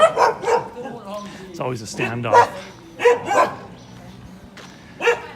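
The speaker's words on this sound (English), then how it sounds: "dogs have found me" Dogs at a new home build site in Buriram, Thailand bark in short, separate bursts spread across the clip, close by, mixed with someone talking.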